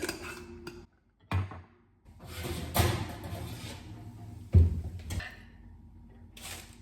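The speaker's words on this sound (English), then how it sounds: "The fries would be so much easier to get off this pan if I didn't use a fork" Metal fork scraping and knocking fries loose from a pan in a home kitchen, a few irregular sharp clinks and scrapes up close with short pauses between, no talking.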